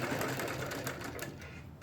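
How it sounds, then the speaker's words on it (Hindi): A sewing machine stitches gum piping onto fabric for a chalk and arm (baazu) piece, a rapid continuous whirring run of stitches, close and steady, fading slightly at the end. "आप इसको पाइपिंग को बिल्कुल इस हिसाब से रखें कुटके से मिला के और इसको सिलाई लगाएंगे"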